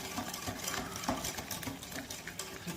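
A whisk stirs cocoa powder into chocolate brownie batter in a bowl, making a continuous soft wet scraping and swishing, fairly quiet and unbroken, with no talk.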